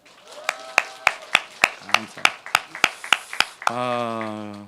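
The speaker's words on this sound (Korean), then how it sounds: "박수 한번 칠까요?" A church congregation claps together in a slow, even beat, about a dozen sharp, loud claps in unison, before a sustained voiced tone takes over at the end.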